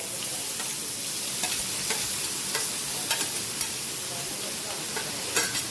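Chopped onion and capsicum sautéing in hot oil, a dense continuous sizzle close up with light irregular stirring taps from a spoon against the pan.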